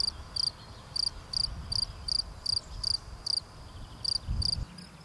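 A cricket in the Senne heathland chirps in regular short bursts, roughly ten evenly spaced trills over a steady low outdoor rumble, close and clear with no voices.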